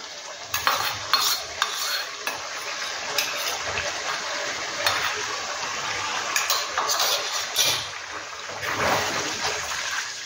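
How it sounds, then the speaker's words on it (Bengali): Tomato paste sautéing with chicken in a pan, a loud bubbling sizzle broken by repeated scraping and clinking stirs, with a voice speaking in the background. "এবার এই টমেটোটাকে দিয়ে মিনিট 10 এটাকে কষিয়ে নিতে হবে"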